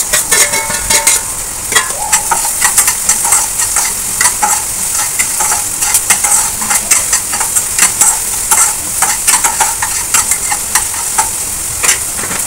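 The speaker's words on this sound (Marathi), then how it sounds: "तर आपलं तेल तापलेलं आहे, त्याच्यामध्ये मी टाकते लसूण आणि कांदा." Garlic and onion frying in hot oil, a steady loud sizzle with repeated scraping stirs of a spoon through the pan, close up and continuous, with no voices.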